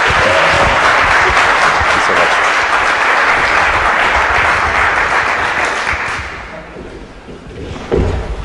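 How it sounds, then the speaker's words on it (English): Audience applause welcoming a speaker on stage at a talk, loud and dense from the start, steady for about six seconds before thinning out and fading. "let's have a big round of applause and welcome for Mr."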